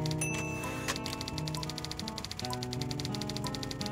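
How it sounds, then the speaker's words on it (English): A typewriter is typed on rapidly, with a steady stream of fast, crisp key clacks running continuously over a dense, busy background of other sound. "I'm a fast typer."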